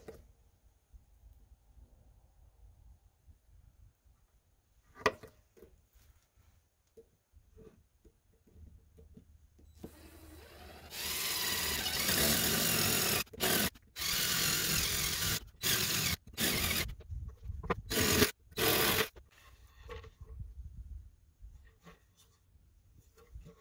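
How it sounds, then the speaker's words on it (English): A drill bores through a maple wood tabletop for a pop-up camper, its loud whirring broken into several short bursts with pauses, after quieter handling noises. "I can actually drill from the other side."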